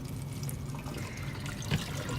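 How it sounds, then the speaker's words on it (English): Dye water poured from a pot into a colander splashes and trickles steadily, with a brief louder slosh near the end, close by and with no talking. "From there, I'm going to pour it into my colander."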